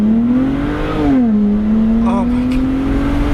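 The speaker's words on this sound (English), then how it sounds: "here we go, launch control." A BMW E60 5 Series holds its engine at a steady high-revving drone on launch control, with a small pitch dip and recovery heard from close by, as a voice speaks briefly over it.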